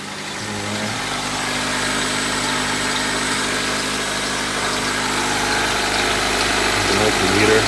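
A Honda CR-V engine idles steadily nearby, a low continuous hum with a faint high belt squeal running through it, and no talking over it.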